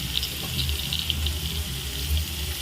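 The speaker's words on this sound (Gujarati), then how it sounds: "આપણે એમાં પાણી નાખી દઈશું।" Water rushes into a hot pan of frying okra, a brief steady gush with faint hissing underneath, close and continuous throughout.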